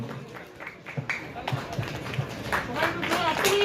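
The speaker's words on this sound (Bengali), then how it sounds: "জোরে হাততালি হোক" An audience claps at a Baul music festival in Jiaganj, with scattered, uneven claps that build in density and volume, mixed with crowd noise and a voice speaking over it.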